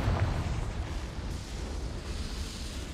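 The Confringo blasting spell explodes in Hogwarts Legacy as a heavy, continuous rumbling roar that holds steady for a few seconds with no pause.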